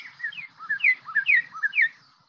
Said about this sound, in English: And this is a duet.